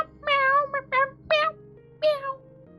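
A person imitates a cat, voicing a handful of short, high meows in an uneven rhythm, close and clear, with quiet gaps between them.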